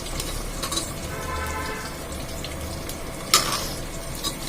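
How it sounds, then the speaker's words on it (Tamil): Onions for veg pulao sauté in a pan after green chilies, mint and curry leaves, making a moderate continuous sizzle with a single metallic clink of a utensil partway through; no talking. "போட்டு வதக்கிட்டு வெங்காயம் போட்டுக்கணும்"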